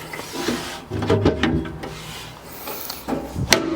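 A metal drawer from a Buzz Overland triple drawer stack slides and scrapes into its housing during installation, with rubbing, sliding clunks and a sharp knock near the end, heard up close with no talking.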